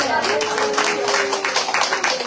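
A church congregation claps along during a Korean Sunday worship service, producing dense, steady rhythmic clapping that fills the room alongside a sustained tonal voice or music.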